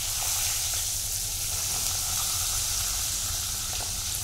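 Sliced vegetable bhaji frying in a pan gives a continuous, even sizzle and crackle at close range, with no voices over it.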